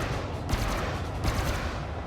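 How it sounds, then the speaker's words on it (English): Plasma weapons fire in Elite: Dangerous during a tight ship dogfight, two heavy booming bursts about a second apart over a dense, loud rumbling background. "I am occasionally misjudging my plasma shots"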